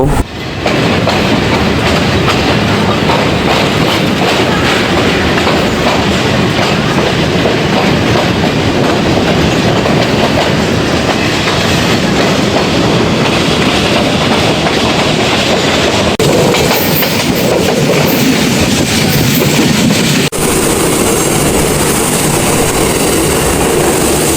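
Udayan Express passenger train running on rails toward Sylhet station, with a steady loud rumble and continuous clickety-clack of wheels over rail joints throughout, no voices.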